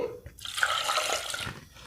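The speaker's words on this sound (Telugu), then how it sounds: "ఇంకొద్ది వాటర్ యాడ్ చేద్దామండి" Water poured into tamarind juice, giving a continuous splashing, running-water rush for most of two seconds, close by, with no one speaking.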